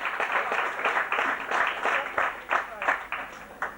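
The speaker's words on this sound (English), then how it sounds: "Give yourselves a round of applause for coming here." An audience at a Black History Month fashion show gives itself a round of applause, with scattered, uneven clapping that rises and falls in bursts, fairly faint and distant, while people talk quietly underneath.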